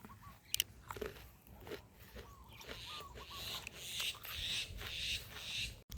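Someone bites into crunchy, sweet fresh date fruit and chews it close to the mic, giving a couple of sharp crisp bites and then a run of wet crunching and chewing, with quiet voices nearby.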